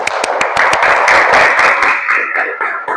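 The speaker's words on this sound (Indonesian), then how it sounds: "Kita berikan tepuk tangan dulu untuk teman-teman." A classroom of students claps for their classmates, loud brisk clapping from a small group with sharp individual claps standing out, tapering off near the end.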